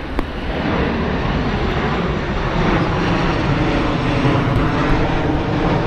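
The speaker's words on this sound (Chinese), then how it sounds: "这边的飞机，" An airplane flying overhead, a loud, steady engine rumble that holds from start to finish with no voices over it.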